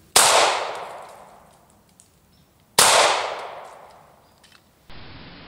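Two loud, sharp 9mm pistol shots fired into an alarm clock radio, each ringing out in a long decaying metallic clang, spaced a few seconds apart with a softer thump after.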